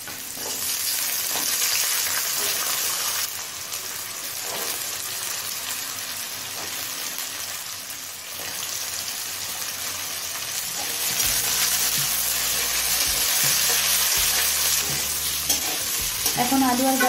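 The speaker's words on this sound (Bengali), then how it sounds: "তেল গরম হলে আলু আর গাজরটা দিয়ে দিচ্ছি।" Potatoes and carrots fry in hot ghee in a pan, giving a steady, loud sizzle with stirring scrapes throughout and sharper bursts of crackle toward the end.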